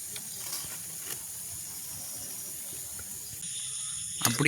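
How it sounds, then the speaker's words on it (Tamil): Heavy rain falls steadily on a village, a continuous close hiss that swells slightly louder near the end, with no voices. "நல்லா மழை வருது"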